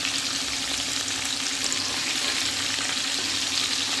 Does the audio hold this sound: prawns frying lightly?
yes